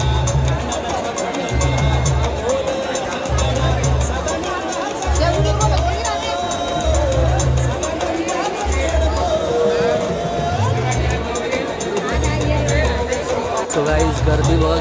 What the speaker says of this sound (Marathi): सो गाईज गर्दी बघा किती आहे,